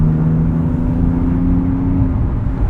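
A 2006 Porsche Cayman S with a six-speed manual gearbox cruises on a road drive, its engine giving a steady, close droning hum with a low tonal note that stays even throughout, no talking.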